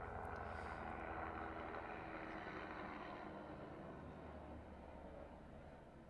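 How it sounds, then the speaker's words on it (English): A faint, steady rotor drone of helicopters overhead, fading gradually as they move away. "more helicopters."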